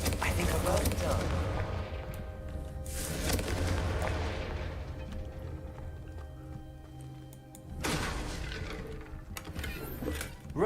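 Confringo fire spell blasts in Hogwarts Legacy: loud, roaring fiery bursts that swell and fade in waves, with a sustained rumble between them and voices heard along with the effects.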